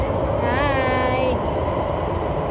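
Singapore MRT train interior ride: a steady low rumble and rolling rail noise fill the whole span, with a brief rising electric whine partway through.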